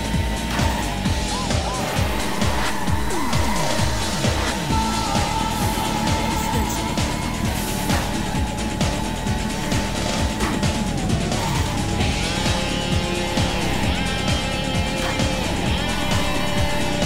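Car engine roaring steadily through a race in Sega's Scud Race, an arcade racer set among hills, a castle and a colosseum, with shifting engine pitch, tire noise and music blended throughout.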